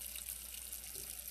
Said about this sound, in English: I'll add a little boiling water to it.